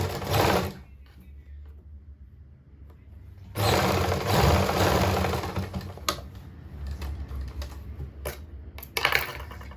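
A sewing machine stitches a seam on a lined suit in loud, rapid mechanical bursts, starting and stopping with short pauses between runs, with no talk.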